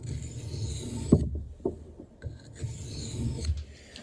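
Steady rasping strokes of a blade drawn across a fine whetstone, close and even, with short pauses and a few light knocks between passes.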